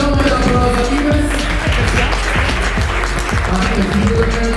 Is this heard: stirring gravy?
no